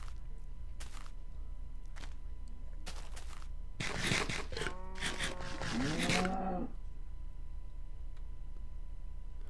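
Cows in the video game Minecraft give several drawn-out, wavering moos in a row, moderately loud and close, with faint clicks and footsteps around them.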